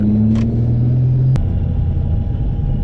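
A supercharged V6 car engine under moderate throttle, a loud steady drone with a low engine tone, continuous and close throughout.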